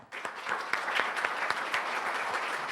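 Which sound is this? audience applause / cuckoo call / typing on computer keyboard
audience applause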